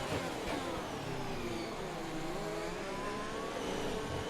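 An F1 car's engine races in the F1 2021 video game at the Abu Dhabi GP, holding a loud, continuous high-revving whine with gliding pitch as it runs in a slipstream, alone without voices.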